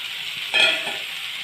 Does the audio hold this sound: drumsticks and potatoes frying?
yes